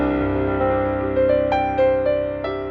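Rosewood Grand virtual piano heard through its harp microphone position, a few sustained notes that ring together warmly and darkly at a loud, even level, with no voices.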